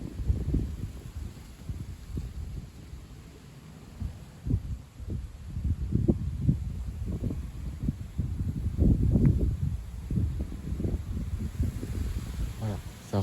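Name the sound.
strong gust of wind outdoors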